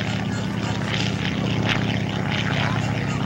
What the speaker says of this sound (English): Again, the open cockpit airplane, the primary trainer